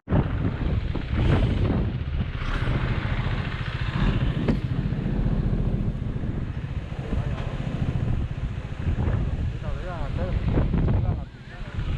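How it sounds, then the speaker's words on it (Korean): Motorcycle riding through strong wind on a road trip in Bolivia, with a steady engine drone and heavy wind buffeting the microphone, continuous and loud throughout. "오늘도 좀 바람이 많이 불어서 그런 건지 몰라도 뭔가 좀 더디게 이렇게 속도가 나는 것 같아요"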